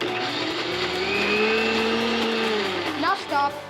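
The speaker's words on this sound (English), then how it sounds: "we're gonna blend this" An electric blender whirs through chutney with a steady, rising and falling motor whine that holds for several seconds, then winds down and stutters to a stop, loud and close.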